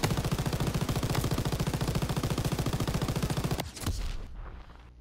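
Machine gun fire in the Call of Duty WW2 D-Day beach mission, a rapid steady burst of loud automatic shots that runs for several seconds, then stops abruptly and leaves fading rumble and distant battle noise.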